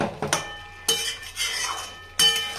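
Chicken being stirred and sautéed in a pan gives sharp metallic scrapes and clanks of a utensil against cookware, in a few separate bursts with a faint sizzle between them.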